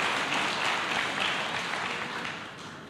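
Church congregation applauding at a worship service, a steady dense wash of clapping that holds throughout and tapers slightly toward the end, with no voices over it.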